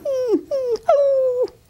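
A person imitates a dog whining, playing the dog in a stage production of Annie: three drawn-out, high nasal whimpers with falling ends, close and alone with no other talk.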